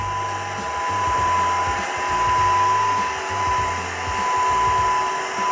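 A Eufy Mach V1 Ultra vacuum runs on its standard vacuum setting, cleaning confetti off a rug, with a loud steady motor whir and a pulsing low hum that swells and fades throughout.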